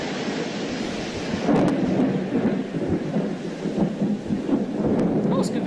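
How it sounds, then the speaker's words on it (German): Thunder rumbles in a horror video game, a low rolling boom over steady rain and rustling, moderately loud and sustained with no talk over it. "Oh, es gewittert."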